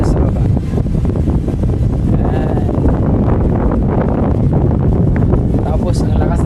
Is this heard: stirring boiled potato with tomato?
no